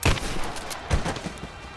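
Gunshots in the Rise of the Tomb Raider video game, two sharp loud reports about a second apart, close and punchy over a dense noisy game background.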